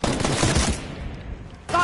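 Gunfire in a Wild West video game, a dense cluster of close, loud shots at the start, then a lull and one more sharp blast near the end.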